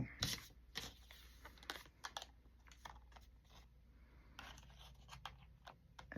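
Scissors snip a piece off a craft project, giving a few sharp close clicks and cuts amid quiet rustling and handling noises.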